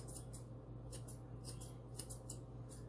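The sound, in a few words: scissors cutting dog hair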